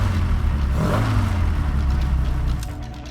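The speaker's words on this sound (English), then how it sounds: "Let's listen to the engine that it has pretty much" A 70 hp front-wheel-drive car's engine revs in the SLRE racing game, a loud continuous drone with a rising and falling pitch, steady throughout and easing slightly at the end, with no voices.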